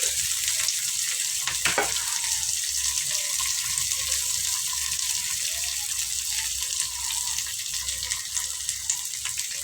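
Sliced big onion and curry leaves crackle and fry in a pan for a bottle gourd kootu, a dense continuous hiss running throughout with a couple of brief sharp clatters near the start and no talking.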